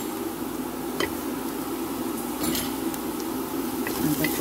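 Spice paste for chicken kabsah is tipped into a hot pan and stirred, a steady sizzle with scraping of a utensil against the pan and a few sharp clinks.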